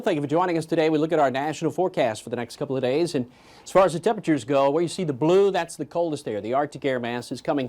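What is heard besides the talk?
No everyday noises stand out.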